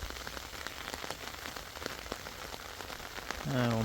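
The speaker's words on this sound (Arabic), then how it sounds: "الشتا راه كتصب" Heavy rain pours steadily on surfaces outdoors during a storm at a citrus orchard harvest, a dense even hiss with scattered drop hits, ending as a voice begins speaking.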